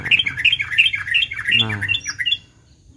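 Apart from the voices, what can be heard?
young sogon birds calling near the house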